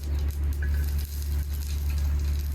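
Garlic and sesame seeds are sautéed in a pan for curry leaf chutney, crackling in a steady close sizzle over a low hum, broken by a few stirring taps and with no talking.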